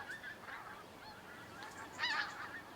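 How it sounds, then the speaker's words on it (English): A flock of geese honking as they fly over in late September, outdoors; repeated overlapping calls at moderate distance, with a louder burst near the end. "It's that time of year, the geese are coming over."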